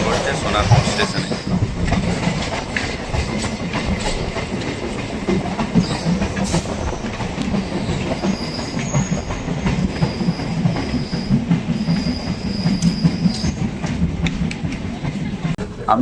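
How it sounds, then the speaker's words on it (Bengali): A Diamond Harbour local train pulls into Sonarpur station on a rainy morning, with close rumbling carriages, rhythmic clickety-clack over the rails and thin high wheel squeals drawing out near the end. "আমাদের ট্রেন প্রবেশ করছে সোনারপুর স্টেশনে।"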